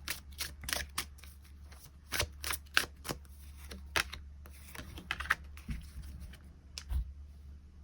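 Tarot cards being shuffled and drawn, with irregular soft snaps and rustles of cards spread across a few seconds, close and fairly quiet, with no talking.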